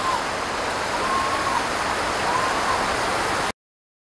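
Tropical rain shower on the San Blas islands in the Caribbean, a steady, even hiss of rainfall close by, unbroken until it cuts off abruptly.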